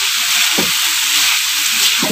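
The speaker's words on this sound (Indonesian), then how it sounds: "Aduk lagi sampai rata ya" Orek tempe sizzles and fries steadily in a pan with mushroom broth just added, a loud, constant hiss with a few soft stirring scrapes breaking through.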